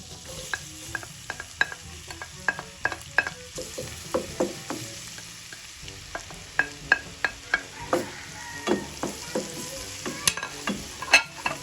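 Garlic fries in butter in a pan for butter garlic crab. A steady sizzle runs throughout, broken by frequent close stirring scrapes and taps, with no talk.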